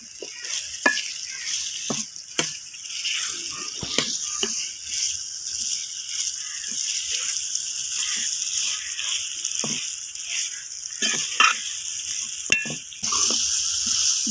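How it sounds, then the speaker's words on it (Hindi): Kachnar buds and peas fry in spice masala in a pan, a constant bright sizzle with occasional stirring scrapes and spoon taps, close and steady, no voice. "कचनाल जो है मैंने इसकी भुनाई कर ली है। अच्छी तरह इसको भून लेना है मसाले में।"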